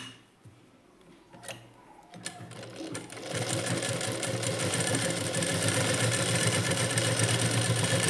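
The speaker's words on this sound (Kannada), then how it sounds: "ಇವಾಗ ನೋಡಿ ಸ್ಟಿಚ್ ಮಾಡಿ ತೋರಿಸ್ತೀನಿ ನಾನು" After a few quiet clicks and taps, a sewing machine starts stitching fabric and runs continuously at a steady, fairly loud hum with rapid mechanical ticking for the rest of the clip, no voices.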